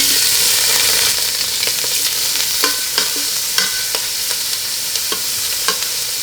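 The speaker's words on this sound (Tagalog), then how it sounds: "ipapan fry na natin dito yung hipon" Frozen cooked shrimp frying in hot oil in a pot, a loud dense sizzle that settles into a crackling fry with sharp pops and spatters scattered through it, no voices.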